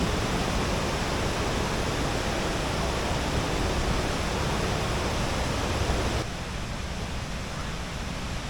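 A waterfall at Vattavada roars as a loud, steady broadband rush close by, dropping slightly in level near the end, with no voices.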